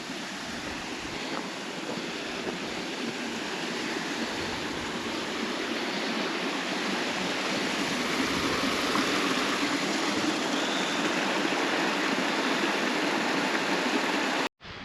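A river in the Lake District rushes steadily beneath a small footbridge, a continuous broadband wash of flowing water heard close and loud throughout, with no voices, before cutting off abruptly at the very end.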